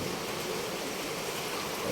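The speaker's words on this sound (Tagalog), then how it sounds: "So, ayan dire-diretso pa rin yung ulan." Steady, unbroken rain pours down during a flood, a dense even hiss of falling water close by with no voices.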